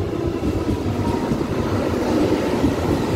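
A Taiwan High Speed Rail 700T train passes as a local EMU705+EMU706 train heads out of Fuzhou station. The passage makes a steady rumbling roar with low mechanical rolling noise that holds throughout.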